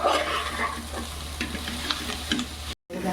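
Okra and kevla wild greens fry in a pan as a spoon stirs them, giving a close, steady sizzle broken by scraping strokes, with a brief dropout near the end.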